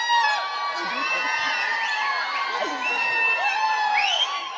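A crowd of fans at a public appearance in KGF cheers and whoops loudly and continuously, with high shouting voices layered over steady clapping from start to finish.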